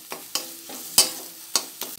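Prawns with salt and turmeric frying in a pan, with a spatula scraping and stirring in sharp, uneven strokes over a steady soft sizzle, close and clear with no talk.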